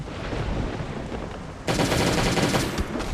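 Rapid automatic gunfire from the Last Day on Earth Survival game, a dense continuous burst that erupts loudly about halfway through over a steady background din, with no talk.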